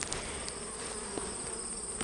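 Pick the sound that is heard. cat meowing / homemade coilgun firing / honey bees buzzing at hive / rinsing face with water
honey bees buzzing at hive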